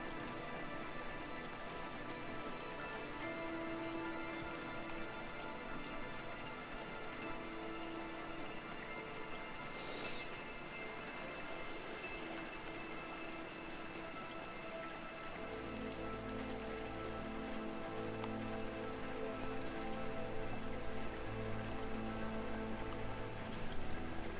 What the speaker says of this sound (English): Guy with a skateboard and a girl sitting out in the rain.